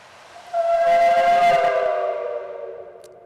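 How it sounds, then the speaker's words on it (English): The Georgia Tech steam whistle gives one strong blast, a loud tonal shriek with a hissing edge that starts abruptly, holds, then slowly fades away outdoors with no voices. "Then a 29th longer blast will sound in tribute to Georgia Tech's alumni."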